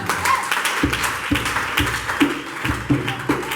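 A church congregation applauds to acclaim the Lord, a steady roomful of clapping with rhythmic louder beats roughly every half second, continuous and close throughout.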